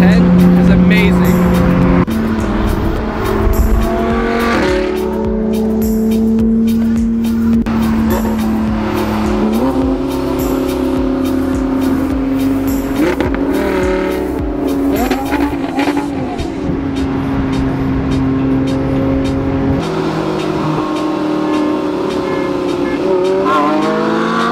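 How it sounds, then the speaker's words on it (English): Loud Audi R8 V10 cruising on the road, its engine note rising and falling through gear changes and close to the microphone, while people talk over the roar. "that sweet tone of the V10 is amazing"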